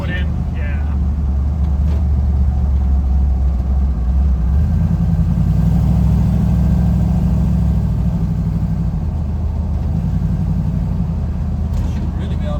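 A 1964 Ford F-100 pickup rumbles and pulls steadily on a test drive, its engine note rising as it accelerates, with people talking inside the cab over the noise.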